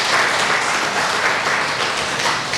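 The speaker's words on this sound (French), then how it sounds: "Félicitez, applaudissez pour lui." An audience at a thank-you ceremony in Bamako gives sustained applause. The dense, even clapping runs steadily for a few seconds with no voices over it.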